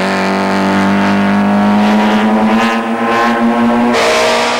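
A BMW touring car runs at the Kyalami circuit, its engine note climbing steadily in a loud, close wail before stepping up sharply at a gear change.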